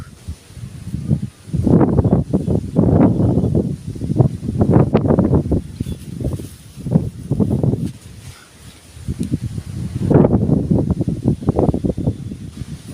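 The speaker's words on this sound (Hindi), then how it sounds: "भयंकर हवा चल रहा है।" Strong wind gusts buffet a microphone outdoors in loud, rumbling bursts that rise and fall over several seconds, with brief lulls between them.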